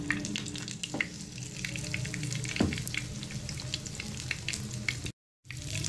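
Gram-flour-coated masala fish pieces frying in hot oil in a pan, a steady close-up sizzle with a couple of brief clatters and a short gap near the end, no voices.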